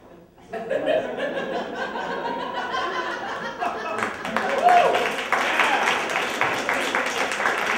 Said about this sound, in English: I hope you're applauding for me